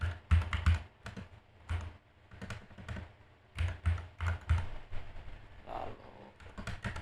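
Keys clatter on a computer keyboard during work in MATLAB/Simulink, irregular bursts of close, crisp taps separated by brief pauses.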